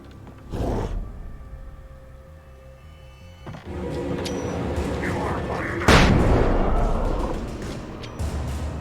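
Flashbang grenades going off in the video game Alan Wake, two loud booming bursts about five seconds apart, the second heavier, over a droning game soundtrack with a voice talking.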